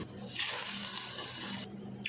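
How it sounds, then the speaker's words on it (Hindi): Water poured into a cooking pot for moti pulao, three glasses for two of rice: a steady, close splashing pour of about a second and a half, then it tapers off, with no talking. "पानी हम 2 गिलास चावल है तो 3 गिलास पानी डालेंगे"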